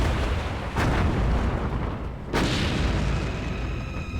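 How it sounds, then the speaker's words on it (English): Battleship broadsides from 16-inch and 5-inch guns: two heavy booming blasts a second and a half apart over a continuous loud rumbling roar, close and powerful. "firing rapid broadsides from 16-inch and 5-inch guns."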